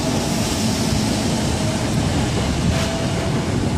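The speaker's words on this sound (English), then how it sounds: "I should film this train while it goes through. It's a passing through train." A Class 321 Greater Anglia train passes through a station at speed, a loud steady roar and rush of wheels on rail filling the whole stretch, with a brief high whine near the end.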